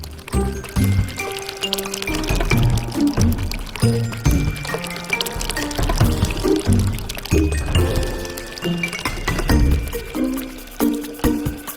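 Water spills from a cracked clay pot in a cartoon, a loud, irregular run of pouring, splashing and dripping that goes on for about twelve seconds, with tonal sounds running beneath.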